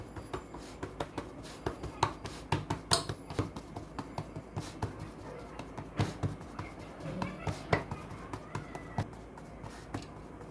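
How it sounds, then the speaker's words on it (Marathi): Rice flour bhakri dough patted and pressed by hand, a quick run of soft, close slaps and taps in an uneven rhythm, with no talking. "थोडंसं पीठ टाकून भाकरी छानपैकी अशी थापून घ्यावी"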